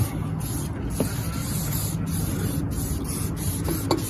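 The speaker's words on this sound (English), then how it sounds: "the little spray nozzle kind of helps you get, you know, into the places that are hard to reach" A continuous pressurized spray of wax undercoat hisses steadily from a small spray nozzle onto an INEOS Grenadier, close and loud, with a few small clicks and no talking.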